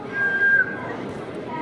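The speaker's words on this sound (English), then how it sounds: "Stop whistling." A single steady whistled note from a person, held briefly and clear against quiet room ambience with people talking faintly in the background.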